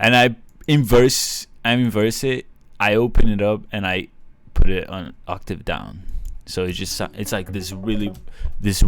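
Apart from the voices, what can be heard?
None of the usual background noises is heard.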